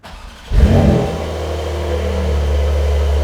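A Porsche 911 Carrera 4 GTS Cabriolet engine starts up with a loud rev, then settles into a steady, close idle rumble with no talking.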